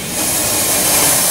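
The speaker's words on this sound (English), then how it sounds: "Oh, the blower. Well, that's the blower right there." Steady, loud hiss of the steam blower on an Ed Porter steam engine boiler, a continuous broadband rush of escaping steam that holds even throughout, with no talking.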